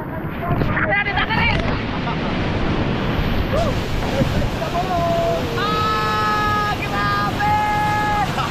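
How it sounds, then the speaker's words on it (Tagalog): Loud, close rushing roar of a waterfall buffeted by wind noise, with excited voices shouting over it in the second half. "Nakalapit ako ng falls!"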